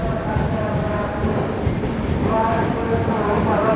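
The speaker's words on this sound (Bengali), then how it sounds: "বর্ধমান স্টেশনের 1 নম্বর প্ল্যাটফর্ম থেকে আমাদের ট্রেন ছেড়ে দিল।" A train pulls away from platform 1 at Bardhaman Junction at night, heard as a steady, fairly loud rolling rumble with faint tonal whines running throughout and no pause.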